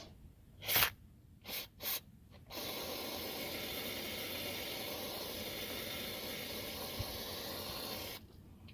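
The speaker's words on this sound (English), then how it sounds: "we're going to use some of this brake part cleaner" Several short hissing bursts from an aerosol can of brake parts cleaner sprayed onto an engine crankshaft snout, followed by one long continuous hiss lasting several seconds, all close and with no talk.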